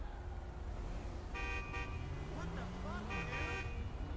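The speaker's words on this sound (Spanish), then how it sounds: "A ver, ¿vas a dejar de pitar, macho?" Car horns in the police mod for the video game GTA, sounding as two bursts of honking over a constant engine and traffic drone, with a siren-like sweep between them.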